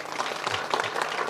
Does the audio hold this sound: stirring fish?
no